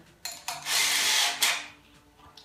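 A power drill bores holes through wood clamped in a jig for a rustic night stand: short bursts, then a sustained whining grind of the bit cutting, easing off as it pulls back out, close and alone.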